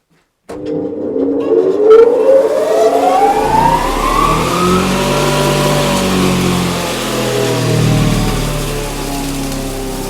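A grain mill's electric motor starts abruptly and spins up, its rising whine climbing over a few seconds before settling into a steady, loud hum with heavy low rumble.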